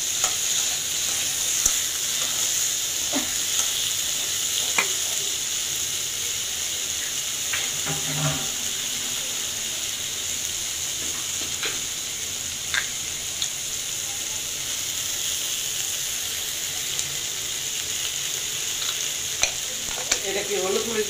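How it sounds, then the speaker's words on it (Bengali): Sweet potato and eggplant being stir-fried (kosha) in a pan, a steady close sizzle and hiss with occasional scraping stirs throughout. "মিষ্টি আলু বাগুন কষা করতেছি।"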